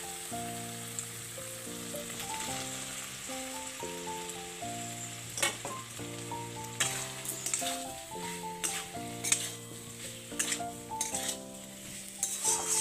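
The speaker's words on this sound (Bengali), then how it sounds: "এবার আমি এর মধ্যে গাঁটি কুচুগুলো দিয়ে দেবো" Taro pieces sizzle in oil with tomatoes and spices in a pan, producing a steady frying hiss and occasional stirring clinks, heard faintly beneath background music.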